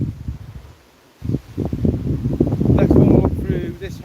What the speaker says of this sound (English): Very windy, so I'm just going to try and be quick